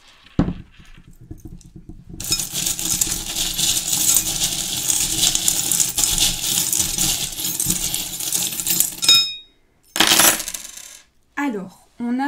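Small metal charms poured and tumbled onto a surface for a divination reading, giving a long continuous jingling clatter like dropped coins, then a few short bursts of rattling.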